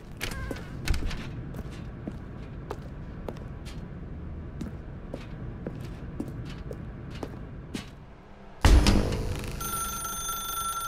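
Telephone ringing in the video game The Stanley Parable, repeated sharp rings spaced through the scene with soft footsteps, then a louder burst near the end.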